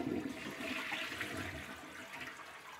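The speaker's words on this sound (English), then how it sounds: "the flush toilet" A porcelain flush toilet with a floating valve in its tank, flushing in a rushing, gurgling swirl of water that gradually subsides, faint and close with no talking.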